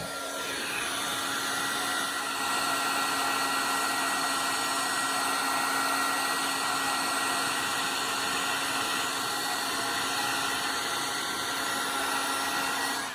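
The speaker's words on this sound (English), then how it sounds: "I always like to heat up the tool a little bit because that makes your heat embossing heat faster" A heat embossing tool blows hot air over cardstock in a steady, close whooshing hiss that holds for several seconds without a break, with no one speaking.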